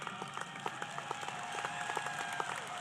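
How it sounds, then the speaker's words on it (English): A large university commencement audience applauds, giving a dense, continuous patter of many hands clapping, steady and fairly distant, with faint tonal sounds from the hall running underneath. "let's clap it up."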